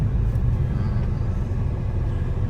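A car pulls out of the parking area at Dr. Ram Manohar Lohia Hospital, giving off a steady, close, low engine rumble with no breaks.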